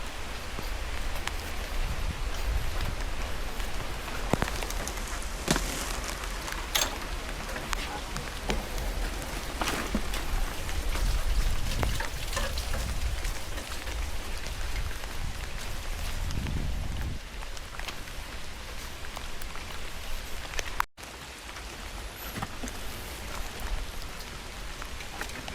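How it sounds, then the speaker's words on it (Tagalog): Steady heavy rain pours down in Canada, a dense wash of noise with scattered drops and occasional rustling throughout. "So, ulan pang malakas."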